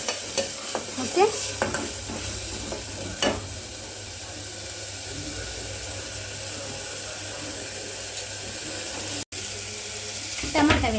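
Ground onion paste frying for an egg curry, a steady sizzle running through with scattered stirring scrapes of the pan; a short spoken word is heard once.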